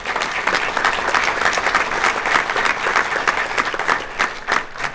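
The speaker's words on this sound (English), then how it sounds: "let's give her a round of applause" Audience at a school board meeting breaks into steady, sustained applause, dense clapping filling the room at an even level from start to finish.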